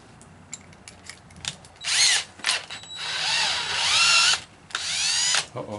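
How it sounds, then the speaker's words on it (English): A battery power drill with a 1/4 inch bit bores into wood for a wooden porch swing, in several close, loud whining bursts with rising and falling pitch, separated by short pauses. "now we're going to put our 1/4 inch bit in our drill"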